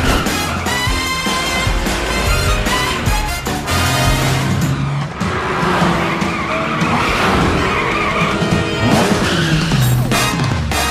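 A cartoon cat car driving fast and skidding in the children's animated series PJ Masks, engine whine and tire squeals layered with bright music and effects, loud and continuous.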